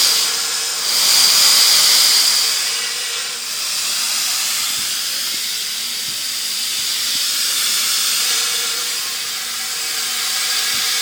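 Loud rushing hiss of compressed air blasting through a steam engine throttle opened wide, surging at first then easing to a steady, slightly wavering flow.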